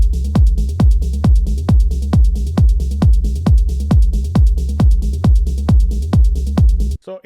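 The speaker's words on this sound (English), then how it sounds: "a very simple technique to make groovy techno bassline" A deep, plucky techno bassline pulses in a steady, hypnotic rhythm, each note thumping low and filtered, repeating evenly before stopping abruptly near the end.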